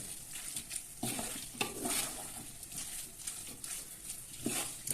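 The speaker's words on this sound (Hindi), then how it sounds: "मिक्स करेंगे एक बार।" Macaroni is stirred in a frying pan in a home kitchen, with soft repeated scraping strokes over a quiet, steady sizzle that swells with each turn of the spoon.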